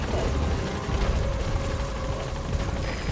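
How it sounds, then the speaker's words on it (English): A military helicopter touches down in Metal Gear Solid 5: The Phantom Pain, its rotor a steady, loud, rapid chopping whir with engine roar and no talk. "All right, the chopper's touching down."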